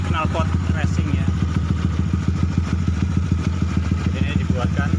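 Honda Sonic motorcycle engine running steadily nearby with a fitted racing exhaust, a rapid uneven pulsing throb with some clatter, and a voice speaking faintly over it.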